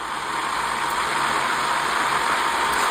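A diesel engine idles nearby in a steady, continuous low rumble mixed with a broad mechanical hiss, unchanging throughout and with no talking over it.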